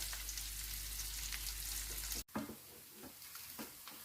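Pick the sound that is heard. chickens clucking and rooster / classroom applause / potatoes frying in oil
potatoes frying in oil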